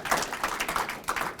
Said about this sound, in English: Could you all applaud that?